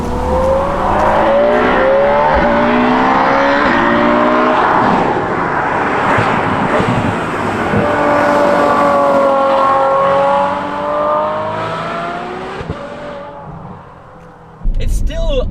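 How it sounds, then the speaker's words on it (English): Ferrari F12 Berlinetta V12 fitted with an IPE exhaust, howling loudly and close through rising and falling revs for most of the clip, then cutting off briefly before a final sharp burst. "the sound of the IPE exhaust that I've installed on this car is still a wonderful thing"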